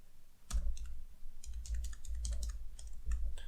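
Quick, close clicking keystrokes on a computer keyboard, a run of uneven taps over a low background hum with no talking.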